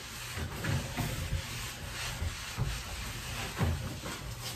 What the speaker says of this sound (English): I finish up with this kind of polishing cloth, window cloth